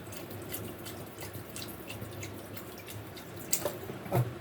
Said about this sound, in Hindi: ये मैं बोतल के साथ डाल रही हूँ।